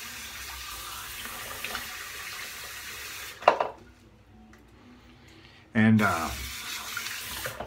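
Bathroom sink tap runs water while a face is splashed and wetted before a shave with a 1964 Gillette Slim Adjustable razor, a steady close rushing with a brief interruption, then splashing and a few spoken words.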